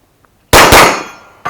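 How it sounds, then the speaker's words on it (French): Two Kriss Vector rounds strike a steel gong target at a shooting range in a quick double tap, giving a sharp, loud metallic clang that rings and decays, followed by the start of another hit. "Deux balles dans le même gong."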